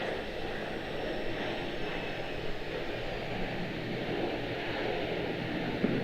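Airbus A321neo airliner touching down at Charlotte-Douglas International, a steady distant engine roar and rumble held at an even level throughout, with a faint hint of voices beneath.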